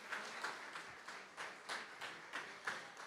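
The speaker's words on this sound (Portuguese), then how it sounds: "Pode aplaudir o nome do Senhor" A congregation in church claps in a steady rhythmic beat, a soft, moderately distant patter of many hands repeating about three times a second.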